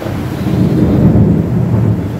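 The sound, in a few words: thunder during heavy rain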